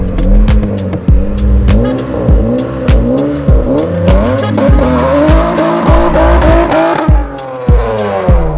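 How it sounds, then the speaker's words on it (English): A car doing a burnout, engine revving loud and close as tires squeal in long repeated bursts, the pitch rising and falling through the run. "What will you rate this burnout?"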